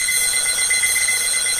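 Electronic alarm clock ringing steadily, a continuous shrill high-pitched tone with no pauses, loud and close, with no talking.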